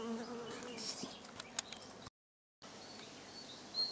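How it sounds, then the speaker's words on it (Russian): A bee buzzes faintly around a village homestead garden near a honeysuckle bush in June, a thin intermittent drone over quiet outdoor ambience with a brief dropout. "Ой, пчела опять нападает."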